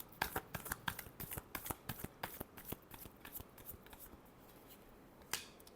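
Tarot cards riffle-shuffled in a rapid run of crisp, papery snaps, then a pause and one last soft flutter near the end, close and fairly quiet with no voices.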